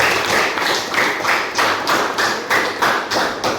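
A classroom of students claps together in a counted rhythm, firm in-unison claps in evenly spaced groups, each sharp and loud, repeating without talk.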